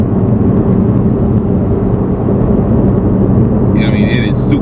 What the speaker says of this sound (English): this car takes off so effortlessly